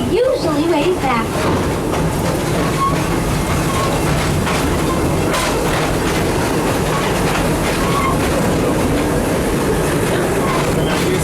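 An amusement park train at Busch Gardens Tampa rumbles steadily along rails with rhythmic clacking and occasional squeals, loud and close, with a voice speaking over it.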